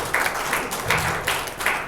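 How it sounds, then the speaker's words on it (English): Men in a comedy club audience clap their hands, with a handful of rhythmic bursts of applause repeating in a loose beat, close and fairly loud. "all the fellas in the room, clap your hands"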